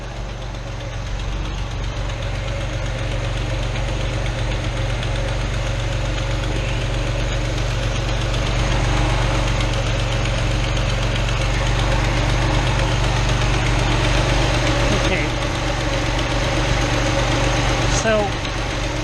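A carbureted 1981–85 Ford Mustang engine idles at about 800 RPM: a steady, loud, low rumble that holds evenly throughout, with a faint click or tick near the end.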